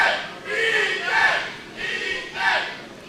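Wrestling fans at a ProSouth event rally a struggling wrestler, their chants rising and falling in rhythmic swells, a loud, rousing cry repeated about four times in quick succession.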